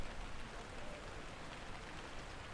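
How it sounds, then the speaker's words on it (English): Heavy rain pours down steadily in a dense, even hiss, with nothing else heard over it. "The rain hadn't let up."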